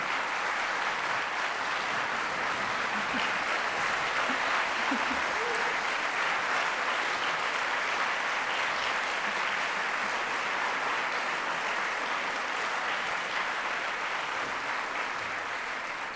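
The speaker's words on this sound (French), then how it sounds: "Une main d'applaudissements pour l'orchestre." At a gala evening of young opera singers, a large audience applauds the orchestra in sustained, dense clapping that holds at an even, fairly loud level from start to finish and fills the hall, with no clear voices above it.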